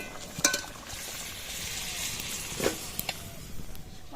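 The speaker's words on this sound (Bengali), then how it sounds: "ঝোল আমাদের ফুটে গেছে, এবার দিয়ে দেব ভেজে রাখা নিরামিষ ডিমগুলি" Vegetable curry broth bubbling in a pan, with a steady close sizzling hiss and a few small pops and stirring clicks; no voices.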